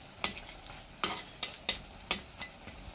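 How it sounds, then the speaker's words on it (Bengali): Eggplant fritters (beguni) frying in oil and being turned, heard as a series of sharp, scattered clatters and scrapes over a faint, low sizzle. "তো এখন উল্টে পাল্টে ভেজে নেব।"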